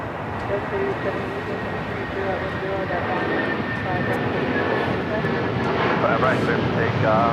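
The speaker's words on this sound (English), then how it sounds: "This is United Airlines 8131 taking off to Newark on a 757-200." A United Airlines Boeing 757-200 takes off at LAX bound for Newark, its jet engines roaring loud and steady throughout while someone talks over it.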